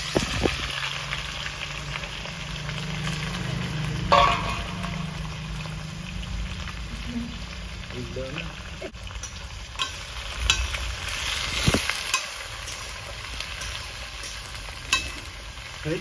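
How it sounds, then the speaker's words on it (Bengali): Raw onions frying in hot oil with dry red chillies, bay leaf, cinnamon, cloves and whole cumin, cooked village-style in a pan: a steady close sizzle with occasional stirring scrapes and spatula knocks, no voices. "আর দিয়ে দেবো কাঁচা পেঁয়াজ"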